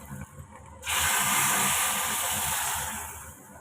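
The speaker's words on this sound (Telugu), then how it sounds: "వేగిన తాలింపుని మరుగుతున్న ఈ చాట్లోకి వేసేసేయాలి" A sudden loud sizzle as hot oil tempering hits boiling rasam, hissing strongly for a couple of seconds before slowly fading, with faint voices before it.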